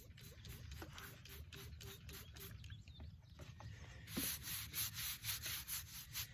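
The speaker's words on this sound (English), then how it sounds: "no one wants to sit here and watch a fat guy rub on a stone all night" Hand scrubbing of a headstone during restoration, a steady rhythmic rubbing and sanding of stone repeated in quick strokes, close and moderately loud, growing rougher and louder near the end.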